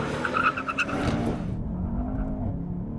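A BMW M760 and a Mercedes-Benz S63 AMG in a rolling drag race, loud engines roaring as the cars accelerate hard with a brief tire squeal, then the sound drops into a duller, more distant drone.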